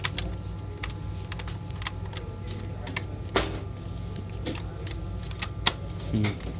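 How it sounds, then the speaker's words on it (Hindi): Keys pressed on a keyboard connected by USB to an HP 800 G5 all-in-one computer under repair, heard as soft, scattered clicks and taps over a steady background hum, with no talking. "कीबोर्ड देखो चल रहा है, प्रेस करो।"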